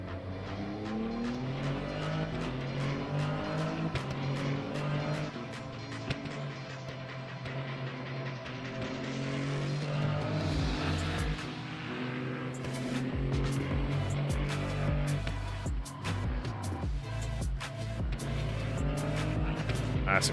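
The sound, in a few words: LMP3 race cars racing at COTA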